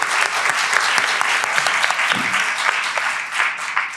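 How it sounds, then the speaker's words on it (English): A keynote audience applauds in a loud, dense, sustained burst of clapping that fills the whole stretch, close and even in level. "So maybe an applause again,"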